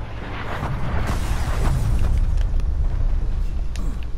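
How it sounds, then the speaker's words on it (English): A hostile artillery strike goes off in the Black Ops Cold War video game, with a heavy rumbling blast and crackling debris lasting several seconds, loud and dense, with no talk. "Oh god, hostile artillery"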